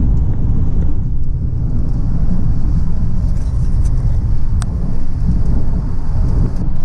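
A car driving through Seattle's tunnel, with a loud, steady low rumble of road and engine noise filling the whole span and a faint high whine from the cabin.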